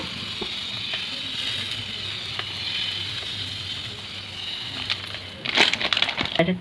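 Rice-flour palm batter sizzles softly in a hot pan as it is swirled around, giving a steady faint frying hiss, followed near the end by a louder burst of scraping and clattering.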